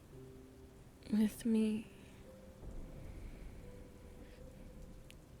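A thunderstorm brings steady rain hiss and a low, distant rumble of thunder late in the clip, following a brief spoken phrase.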